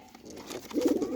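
A pure white hen pigeon coos softly nearby, a low throaty burbling rising in the second half over a quiet background.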